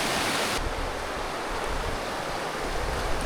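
Waterfall water pours down into a river near the Whitehorn campground on the Berg Lake hike in Canada, a dense, continuous rushing roar with no voices.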